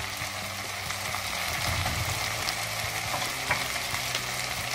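Chili powder sizzling and frying in a pot of sambhar while it is stirred, a steady bright crackle with soft scraping stirs underneath, close and continuous with no talk.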